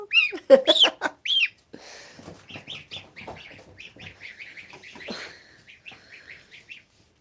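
A goose's loud honking calls open the clip, followed by a run of softer, rapid chattering calls close by.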